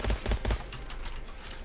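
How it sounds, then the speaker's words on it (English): An electro submachine gun in the shooter Gunfire Reborn fires three heavy, rhythmic thumps in quick succession, followed by a quieter, crackling spray of rapid fire. "Some electro submachine gun."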